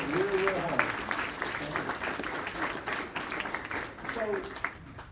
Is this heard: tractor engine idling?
no